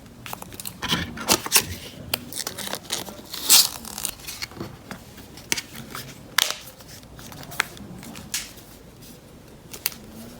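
A mobile phone, a TCL L7, is pulled out of a plastic bag during an unboxing, giving a long run of close, crisp crinkling and rustling with scattered sharp crackles and handling clicks, no speech.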